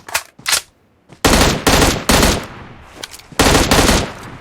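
Gunfire in the mobile battle royale game PUBG Mobile: several loud, close bursts of automatic fire, with short gaps between them, following two brief earlier shots.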